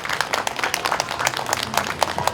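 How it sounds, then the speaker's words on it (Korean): Crowd clapping at an outdoor candlelight rally held in Sagajeong, Seoul, a brief burst of scattered, fairly faint applause with no speech. "다시 한번 큰 박수"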